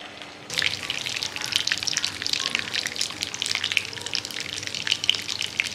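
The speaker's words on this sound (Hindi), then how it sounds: "हम लो फ्लेम पर सब्र के साथ इन्हें फ्राई करेंगे" Chicken kebabs stuffed with raw keema fry in hot oil over a low flame, a steady crackling sizzle with fine popping that starts abruptly and carries on without pause, close and clear.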